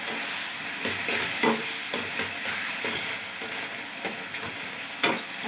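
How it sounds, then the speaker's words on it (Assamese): Turmeric being stirred into boiled wild taro in a pan: a steady soft hiss with irregular scraping clicks from the utensil, several sharper knocks spaced through it, close and moderately loud. "অকণমান লৰাই দিছোঁ।"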